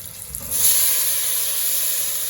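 Cumin seeds dropped into hot oil for a masala, setting off a sudden steady sizzle that holds close and fairly loud after a quieter start.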